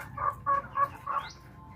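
Rhode Island Red chickens in a backyard free-range flock cluck in a short run of four calls, close and clear over faint background noise.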